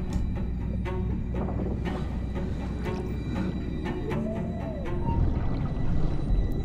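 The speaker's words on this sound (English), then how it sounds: "I hear the whale call. You hear it?" A low, drawn-out whale call rises and falls in the underwater depths of Assassin's Creed 4 Black Flag, moderately loud over a dense rumbling ocean ambience with scattered clicks, no voices present.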